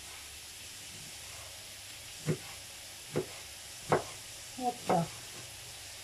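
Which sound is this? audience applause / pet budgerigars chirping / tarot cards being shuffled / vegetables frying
vegetables frying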